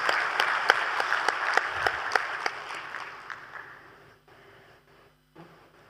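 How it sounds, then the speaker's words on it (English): A conference audience gives the panelists a round of applause, brisk clapping with some sharp individual claps that thins out and fades away over several seconds, leaving near quiet. "with a very big round of applause, let's thank our panelists as they walk down the stage"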